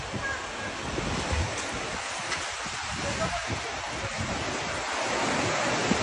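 Floodwater fills a street around a submerged Mercedes car, heard as a steady broad wash of water and wind noise, faint and continuous, with no clear voices.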